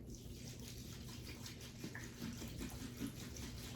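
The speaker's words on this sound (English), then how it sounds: "So I just stick the plant in my little tray and water it." Tap water trickles steadily as a potted plant is watered in a small tray, a soft, continuous splashing patter close by with faint drips, no voices.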